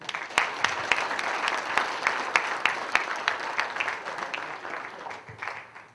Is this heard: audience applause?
yes